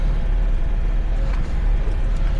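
Citroën Ami 6 with its small 28 hp M4 engine driving on the road, a steady low drone with road rumble, continuous and fairly loud with no talk.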